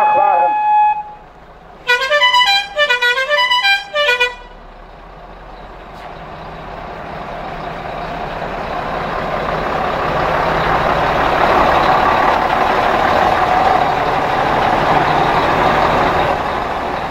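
Truck horns at a truckers' day convoy of 220 lorries: a few quick harmonic horn blasts up front, then a swelling diesel rumble as trucks roll off, growing louder toward the end.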